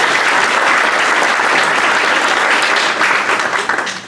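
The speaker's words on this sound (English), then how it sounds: "Another round of applause for being a great Rotarian." A room full of Rotary Club members gives a loud, sustained round of applause that tapers off at the end.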